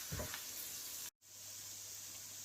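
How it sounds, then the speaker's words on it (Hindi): Onions fry quietly in a pan with a soft, continuous sizzle, broken by a brief moment of silence before the faint crackle resumes. "तीन 4 मिनट लगेंगे ओनियन को कुक होने में।"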